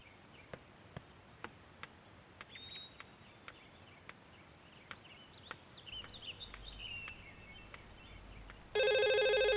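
Telephone in a household scene from a classic Vietnamese drama series, bursting into a loud, shrill electronic ring near the end after quiet ambience of chirping birds and insects.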